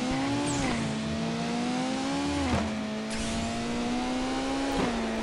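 A Honda Civic Type R engine in the Nitro Nation racing game screams at a steady high pitch near the rev limiter, with brief dips at shift points before it climbs again, loud and continuous with no talk.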